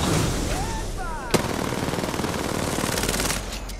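Rapid gunfire rattles continuously while a player shoots from mid-air in a video game, with a sharp louder crack near the middle and faint whistling tones early on.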